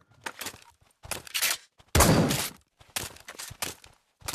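Gunfire from a WWII video game: warning shots in several short bursts, with the loudest volley in the middle and quieter shots before and after. They are fairly close and heard with no talking.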